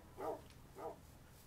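Two short barks from tamed dogs in the Minecraft Hexxit modpack, evenly spaced and moderately close, standing alone against a quiet game background.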